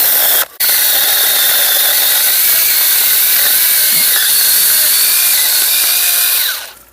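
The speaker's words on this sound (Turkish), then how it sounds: "Testeremiz de bu şekilde iş görür gibi." A powered pruning saw cuts through garden branches, giving a loud, steady, high-pitched buzzing whine with a gritty edge. It cuts out briefly near the start, then runs continuously and stops at the end. No one speaks.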